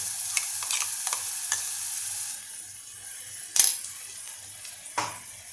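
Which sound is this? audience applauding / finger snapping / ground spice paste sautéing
ground spice paste sautéing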